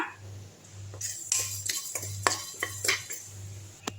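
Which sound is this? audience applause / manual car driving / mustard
mustard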